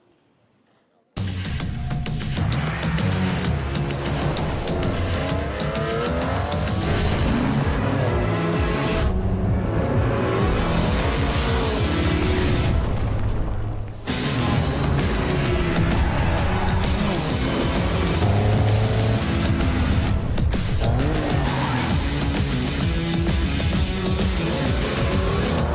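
A Porsche 963 race car is heard in a sim racing game, its engine roaring loud and continuous with tire noise and dense overlapping sound for over twenty seconds after a brief silent start.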